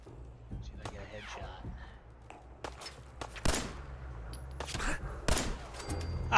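Laser musket shots in Fallout 4, sharp and punchy, with a few scattered blasts over game ambience and footsteps while a voice talks.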